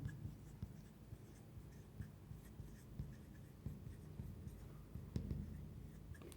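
Pen handwriting a letter in block capitals on paper, soft scratchy strokes in a steady irregular rhythm, close and quiet with no talking.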